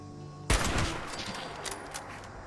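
Gunfire in the game Fallout 76: a sudden loud burst of shots with sharp cracks and booming low end, then a decaying rumble of echoes and scattered follow-up reports.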